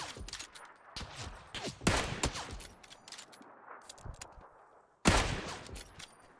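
Bursts of gunfire from a tactical shooter video game, several separate volleys of shots at an irregular pace, loud and close, with a heavy burst near the end and no talking.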